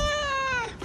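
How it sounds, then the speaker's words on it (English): A single clear, close cat meow at night, drawn out for just under a second and gently falling in pitch, heard on its own. "I put together a super cut of all of the meows and just weird noises he makes at 3 a.m."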